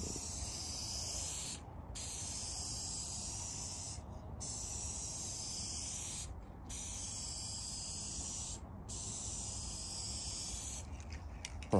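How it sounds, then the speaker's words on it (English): An aerosol rattle can of gray spray paint hissing in long even bursts over a bass speaker box, with three short pauses between strokes. No one talks. "Professional rattle can sprayer"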